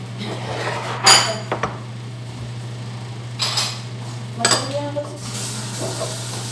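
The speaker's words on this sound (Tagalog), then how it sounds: "hugasan ko naman ngayon yung pinagkainan niya" Dinner dishes being washed, with occasional clinks and knocks of plates and utensils over a steady hum of running water or background drone, scattered and moderately close.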